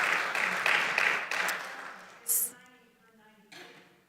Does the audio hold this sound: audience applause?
yes